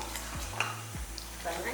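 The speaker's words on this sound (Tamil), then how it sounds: "ஊற்றிட்டு நல்லா ஒரு வதக்கு வதக்கிடலாம்" Oil sizzles steadily in a pan while a spoon stirs and scrapes through masala with chilli powder for vatha kuzhambu, giving a continuous frying hiss.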